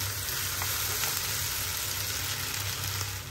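Yakisoba noodles being stir-fried in a hot pan, a loud, continuous sizzle with soft scraping and tossing from stirring, heard up close with no talking.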